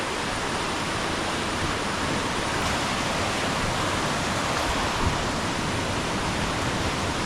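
Water flowing down from Ermayi Falls near Charmadi rushes over rocks in a continuous, loud, close roar of white noise that stays steady throughout, with no voices.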